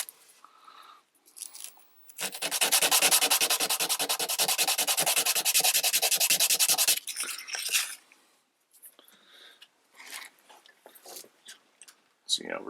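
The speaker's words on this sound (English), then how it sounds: "I'm going to sand that down using some emery paper right here" Metal piece rubbed back and forth on emery paper laid flat on an aluminum workbench to square its ends, a rapid rhythmic rasping lasting several seconds, followed by scattered handling noises and brief talk.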